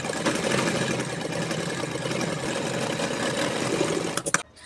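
A sewing machine stitches along the buckram edge of a kurti neckline, with a fast, steady mechanical chatter up close that runs continuously and stops abruptly with a few clicks.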